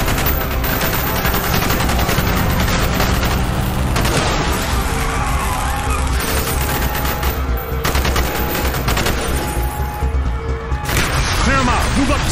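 Dense, continuous automatic gunfire and explosions fill a Call of Duty Black Ops street battle, loud and close throughout, with soldiers' voices barking orders over the din.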